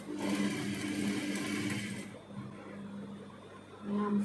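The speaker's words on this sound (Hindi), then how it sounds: "ये पूरी किनारे पे एक सिलाई आ जाएगी ताकि गला पूरी अच्छी तरह से जम जाए।" Sewing machine stitching a seam along the edge of a kurti neckline, a steady close whirring run that stops partway, then quieter handling before a short burst of stitching resumes.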